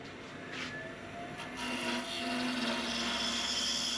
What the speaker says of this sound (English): I've switched over to my bigger skew here, and I'm just getting those final refinements to really get it nice and smooth